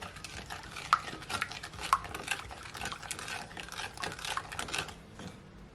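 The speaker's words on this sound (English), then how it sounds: "Then I'm gonna stir it. Make sure that everything is all combined" A spoon scraping and clinking against a bowl while sugar is stirred into jerk chicken wing sauce, a quick irregular rhythm of soft taps and scrapes, close and fairly quiet, no talking.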